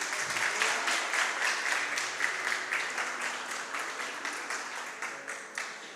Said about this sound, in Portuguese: Sente-se aplaudindo o Senhor.